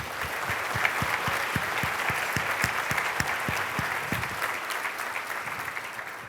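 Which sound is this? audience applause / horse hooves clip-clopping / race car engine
audience applause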